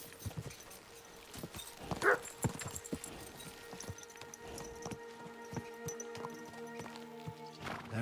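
A horse in a video game clip-clops in irregular hoof beats, with a few scattered sharp knocks and one brief high squeal near the start, faint in a quiet game soundscape.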